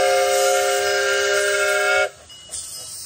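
Train horn sounding loud and sustained for about two seconds as a train goes by, then cutting off abruptly to a quieter rumble with a brief clank.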